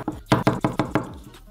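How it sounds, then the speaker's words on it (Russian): Six crisp knife chops on a board slicing olives into rings, evenly spaced and close, each a sharp tap with a brief tail. "Достаем из банки и нарезаем на кружочки."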